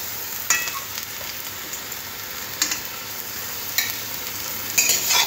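Raw banana chops deep frying in hot oil, a steady close hiss of bubbling oil with a few sharp utensil clicks spaced through it.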